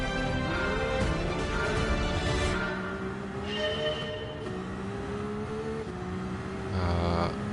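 A powerful race car fitted with an ERS hybrid system in Gran Turismo 7 howls loud and steady, its engine pitch climbing and falling through the gears with no talking over it.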